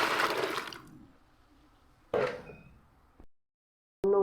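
Water poured from a container to dilute plant fertilizer, heard as a brief splashing pour up close, then a second short gush after a pause, ending with a quick clink.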